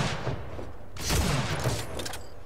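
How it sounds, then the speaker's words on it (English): Flak cannon in Unreal Tournament 4 firing during a 3v3 elimination match, a burst of loud blasts and crackling booms, with a second strong shot about a second in, then trailing mechanical noise. "Flak cannon"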